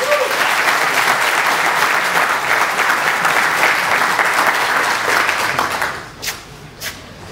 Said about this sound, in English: So give them a loud round of applause.